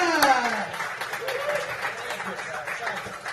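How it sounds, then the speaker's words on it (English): Comedy club audience applauds and cheers at a live comedy night in a village club, steady crowd clapping through the clip while a voice talks over the noise at the start. "Make some noise. Clap it up. Clap it up."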